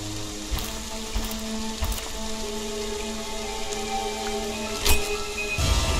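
Steady rain patters across a video game map, a constant hiss of drops with occasional louder ticks and a faint mechanical tone running underneath.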